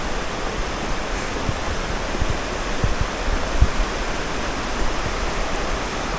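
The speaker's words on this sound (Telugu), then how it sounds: "ఇదొక వాటర్ ఫాల్ నుంచి వస్తున్నాయి వాటర్." Water from a waterfall rushes under a bridge in lush green surroundings, making a steady, even roar with no breaks and no voices.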